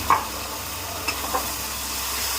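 Turmeric, salt and rock salt roasting in a pan: an even, close sizzling hiss throughout, with a quick clink at the start and a couple of faint scrapes.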